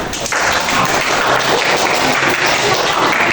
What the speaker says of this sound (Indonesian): Beri tepuk tangan kepada mas